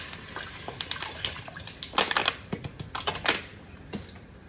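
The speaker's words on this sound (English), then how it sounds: "I'm going to go ahead on and add my water." Water poured from a bottle into a chili pot of braising beans on the stove, a close splashing and gurgling run with crackly bursts that peaks midway and tapers off, no voices over it.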